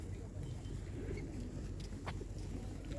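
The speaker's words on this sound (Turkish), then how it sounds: "sahilinde yılkı güvercinlerini görüyorsunuz" Feral pigeons coo on the Akçay seashore, low soft calls repeating under a steady outdoor background, with a few faint higher chirps.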